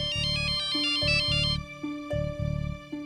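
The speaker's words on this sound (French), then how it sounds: "Allez, décroche ce téléphone." A telephone rings in a domestic TV drama scene, a repeating electronic ring pattern in bursts over about three seconds, loud and close, with no talking.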